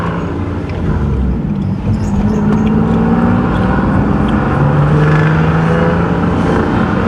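Single-turbo Nissan 370Z Nismo driving, its engine a loud steady drone with rising and falling pitch as it pulls through a gear, heard close from inside with no talking.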